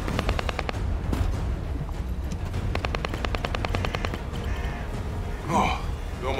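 The Gangster shotgun fired in the video game The First Descendant, repeated rapid shots in quick rhythmic bursts amid game effects and voices, loud and close throughout.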